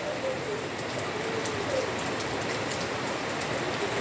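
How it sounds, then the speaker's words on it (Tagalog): Heavy rain pours down without pause during a typhoon, a dense, steady hiss of drops hitting surfaces all around, with faint bird calls now and then behind the downpour. "Grabe, ngayon ang lakas ng ulan."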